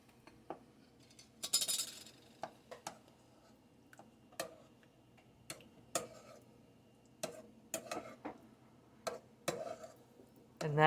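Pizza-chip dip sauce being stirred in a bowl, heard as sparse, irregular clinks and taps of a utensil against the container, close and fairly faint, with no talk.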